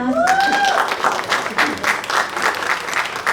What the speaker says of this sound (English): let's give a round of applause for NASA Math